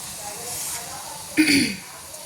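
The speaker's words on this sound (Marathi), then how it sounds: "चहा उकळतोय" Tea boiling on a stove, a soft steady hiss with a brief louder bubbling surge near the end, close and fairly quiet.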